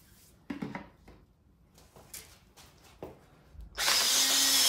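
A drill-driven hone spins inside an engine cylinder, starting after a few faint clicks and knocks with a sudden loud, steady whirring grind that continues to the end, close up.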